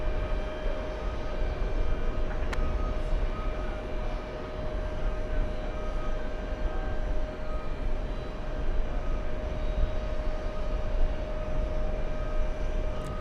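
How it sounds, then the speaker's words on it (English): A Silkway Airlines Boeing 747 freighter at JFK airport gives off a steady, broad jet engine roar with a faint whine, holding at an even loudness throughout. "We have a 747. It's a freighter flying to Tel Aviv. Silkway Airlines."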